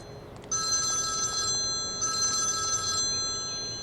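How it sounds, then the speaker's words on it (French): A telephone rings indoors in two clear bursts separated by a short pause, loud and close over quiet room tone, with no talking. "S'il vous plaît, répondez au téléphone pour moi."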